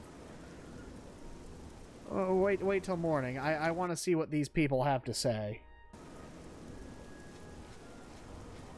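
Steady rain hiss with thunder from the video game Oblivion runs as a constant background wash, partly masked by someone talking over it for several seconds.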